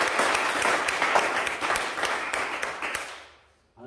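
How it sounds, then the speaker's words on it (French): An audience applauds a graduate at a diploma ceremony, with a steady crowd of clapping hands that fades out near the end. "Donc bravo, on peut applaudir Fabio"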